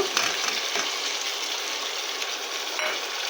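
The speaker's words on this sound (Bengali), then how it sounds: "দিয়ে এটাকেও ভালোভাবে কষিয়ে নেব আমি কিছুক্ষণ" Fried potatoes and egg curry are stirred in a pan over low heat, giving a steady soft sizzle with faint scraping of the spoon.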